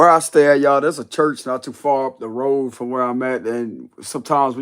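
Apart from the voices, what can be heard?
No everyday noise stands out behind the speech.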